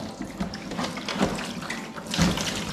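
Tap water runs steadily into a basin while a cat is bathed, a continuous splashing stream with a few louder surges and no talking.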